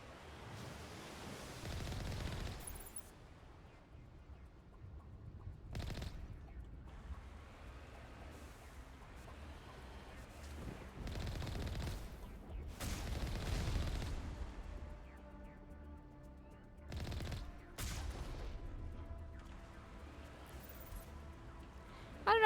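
Vehicle cannons fire in the video game Mass Effect Legendary Edition, scattered heavy booms and blasts arriving at irregular intervals over a low rumbling drive, fairly quiet in the mix.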